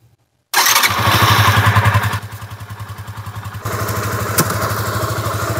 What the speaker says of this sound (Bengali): এখন আমরা বাইকটা স্টার্ট করব।